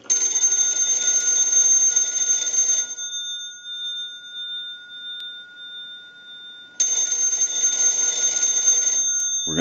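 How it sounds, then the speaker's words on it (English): A Western Electric telephone bell box rings loudly in two long bursts of steady, bright metallic jangling, each lasting about three seconds, separated by a quiet pause, with no talk. "we'll ring the bell box."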